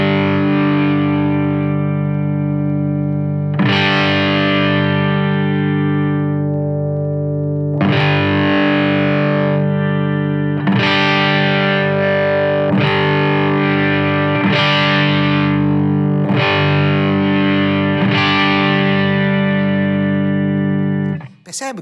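A distorted electric guitar plays repeated sustained strummed chords while the tone knob is swept from closed to open, so the sound moves from dark and muffled toward brighter and sharper. It is loud and close, with no talking.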